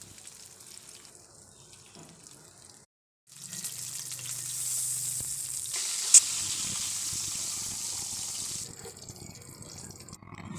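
Pieces of pangas fish frying in hot oil in a pan, a steady close sizzling hiss that drops out briefly, then returns and continues with a bright crackle partway through, no talking.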